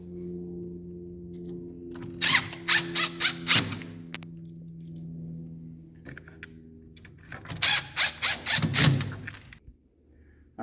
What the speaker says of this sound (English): and you'll reattach the 2 screws.